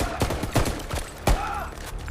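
Bursts of gunfire in a dramatized Chambal bandit shootout, several sharp loud shots scattered across a couple of seconds, with one especially heavy blast near the middle.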